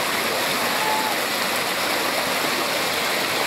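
Water rushes steadily at the top of the Antônio Monteiro waterfall near Pocinhos do Rio, a close, continuous broadband roar with no pauses or voices.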